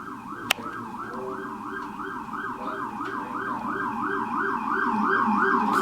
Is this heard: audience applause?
no